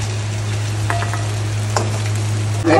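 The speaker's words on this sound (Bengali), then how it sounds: "ও জল সমেত চিংড়ি কড়াইতে ছেড়ে দিয়েছিল" Prawns tipped with their water into a wok, frying with a steady moderate sizzle over a low hum, with a few soft clicks and a sharper clatter near the end, no talk.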